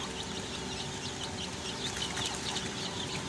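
Black Australorp chicks about 17 days old chirping and cheeping on a farm, a busy flock of small bird calls layered over a constant background hum.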